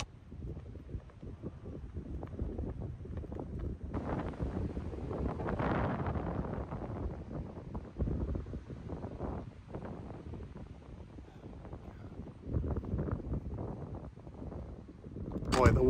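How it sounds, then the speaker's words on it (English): Strong wind blows across a golf course, buffeting the microphone with a close, roaring rumble that rises and falls in gusts. Someone speaks under the noise. "Boy, the wind is just coming in strong."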